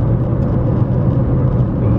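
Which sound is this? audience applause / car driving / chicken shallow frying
car driving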